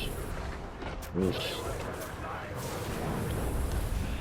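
Artillery pieces firing during a fortress siege in Shadow of War, heard as a steady rumble of distant battle booms with a brief sharper burst, under someone talking throughout.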